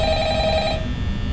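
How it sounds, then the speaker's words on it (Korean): A telephone rings in the video game Five Nights at Freddy's, a steady electronic ring that carries loudly for under a second and then cuts off, leaving low background noise. "아, 전화 받지마. 저거 시끄럽다."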